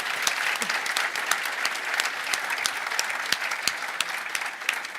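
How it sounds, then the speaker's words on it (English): Steady applause from a sizable audience at an international conference after a panel, dense clapping sustained throughout with no voices standing out. "I hope you all join me in a round of applause"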